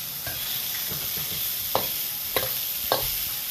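Onions caramelizing with carrots being stir-fried in an electric wok: a steady soft sizzle with a few sharp scraping stirs of the utensil, close and alone without talk.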